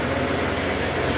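An outdoor lawnmower runs nearby, giving a loud, steady engine drone with dense broadband roar and no breaks.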